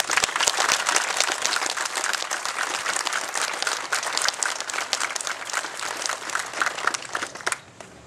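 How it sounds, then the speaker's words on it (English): A crowd at a 9/11 memorial claps steadily and loudly for several seconds, a dense, continuous round of applause that tapers off at the very end. "I think they deserve another round of applause."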